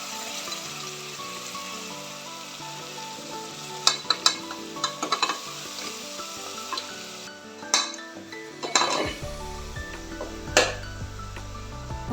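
Ground masala paste fries in a pan for prawn rice, a continuous soft sizzle running under intermittent metal spoon scrapes and clinks against the pan's sides, with a louder clatter near the end.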